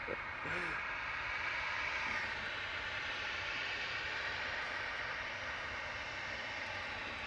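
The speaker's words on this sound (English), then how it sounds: "landing in the background in parallel is the TAP 1310 from Lisbon, CSTPY. E190." A TAP Embraer E190 airliner landing at Manchester Airport on a flight from Lisbon, a steady distant jet roar holding evenly throughout, with a brief voice near the start.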